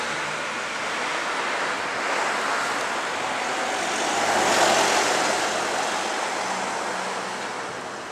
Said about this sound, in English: You may hear and see a lot of wind, but it feels like a hairdryer.